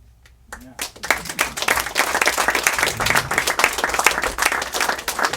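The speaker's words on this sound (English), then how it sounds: "let's give a big applause" An audience applauds after a poetry reading by Bob Hicok, the clapping swelling quickly after a brief quiet start and continuing as a dense, lively patter.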